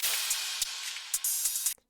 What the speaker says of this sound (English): So this crash here in the example that I was showing you before